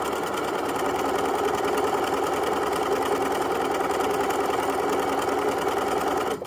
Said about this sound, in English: I'm gonna sew down this whole side